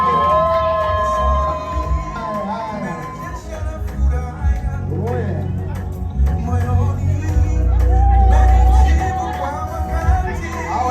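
Women ululating in celebration as guests enter a wedding-style party, high trilling voices rising over a loud, busy crowd with cheering and chatter throughout.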